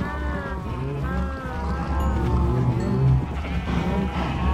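Sheep bleating in the Minecraft video game on a farm with cows, with several overlapping bleats close by over a steady game background.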